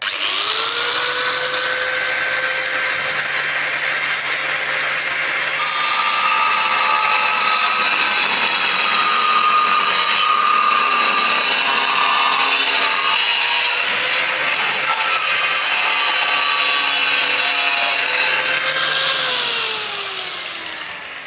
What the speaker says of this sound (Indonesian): cutting wheel kayu khusus ataupun gergaji kecil menggunakan posisi di speed 6 gitu ya